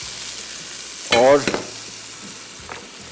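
Curry masala frying in a pan for a Kerala egg roast, giving a loud burst of hiss and sizzle as water is poured in, then settling back to a quiet background before a faint stir near the end.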